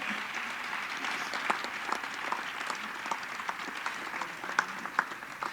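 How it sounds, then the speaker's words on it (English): Steady applause from a crowd at a school district gift reception, many hands clapping continuously at moderate distance, with a few sharper claps standing out. "Yeah, we can applaud that."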